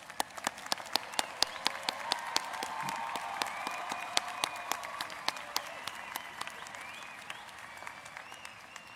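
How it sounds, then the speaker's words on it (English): An audience at a spring university commencement ceremony applauds the graduates with steady, dense clapping throughout, sharp individual claps standing out over the crowd. "one more round of applause for our graduates"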